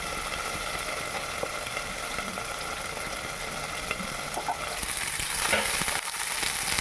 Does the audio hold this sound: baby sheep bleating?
no